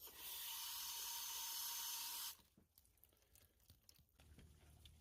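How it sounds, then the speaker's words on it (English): Water sprays and hisses over corroded car battery terminals for about two seconds, a loud steady rush that stops abruptly, leaving faint drips and quiet trickling. "And rinse it off."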